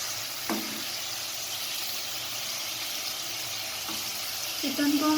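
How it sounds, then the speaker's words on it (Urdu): Chicken pieces frying in oil in a pot for pulao, a steady moderate sizzle with a couple of brief clinks of a spoon against the pot, no talk. "اب میں اس کو چکن کو فرائی کروں گی اس آئل میں"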